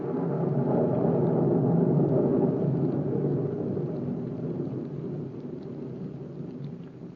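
Rain and rumbling thunder from a radio drama sound effect give a loud, continuous wash of heavy rain with a deep rolling rumble that fades slightly toward the end.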